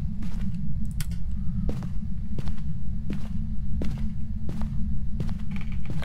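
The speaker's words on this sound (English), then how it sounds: "I heard a heavy footstep near me, I think around the kitchen." Heavy ghost footsteps in the Phasmophobia game at the Ridgeview Road house sound as a steady series of about eight or nine dull thuds, evenly paced and fairly close, over a low constant hum.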